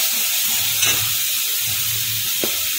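Masala spices, including Kashmiri chili powder, fry for an eggplant dish in a little oil with a splash of water, giving a steady, close, continuous sizzling hiss with no voices.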